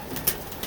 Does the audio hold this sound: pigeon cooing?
yes